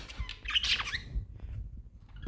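A pet budgerigar in a home flock gives a sharp, harsh squawk, loud and close, followed by softer rustling and faint chirps.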